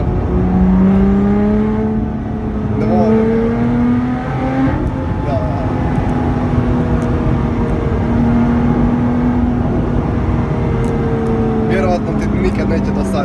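A Lotus Exige 380 S sports car with an active exhaust drones under load, a loud rising and falling engine tone with gear-change steps, heard from inside the cabin beneath ongoing talk.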